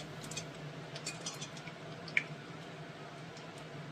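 Panch phoron and three dried red chillies fry in a few spoons of hot oil, giving a steady soft sizzle with scattered faint pops and crackles and one sharper snap, no talking.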